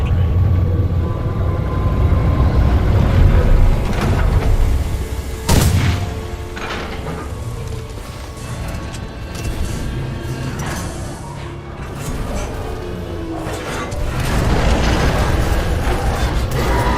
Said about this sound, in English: a series of explosions just weakened the manipulator arm.